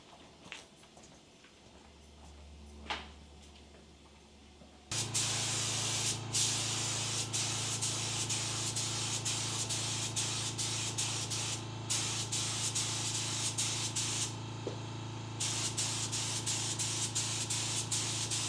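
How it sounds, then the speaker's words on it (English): Aerosol paint sprays a layer onto a part in one long continuous hissing burst, close and steady, with brief stutters, after a few seconds of quiet handling noise. "I'll probably spray another layer on top"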